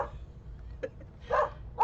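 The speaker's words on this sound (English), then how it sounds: "They always bark at my brother, Ed." Pet dogs, including one called London, barking indoors in a living room, with two short, sharp barks close by over a low background hum.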